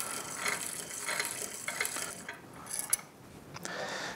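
A hand file rasping in short repeated strokes against the end gap of a Honda Grom piston ring, a faint scratchy metallic sound up close.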